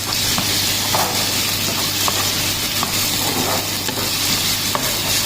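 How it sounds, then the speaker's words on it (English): Ginger garlic paste stirred into onions frying for a Kerala-style sambar, a steady loud close sizzle and hiss that runs through the whole clip, with faint stirring scrapes on top and no voices. "We just add our ginger garlic paste."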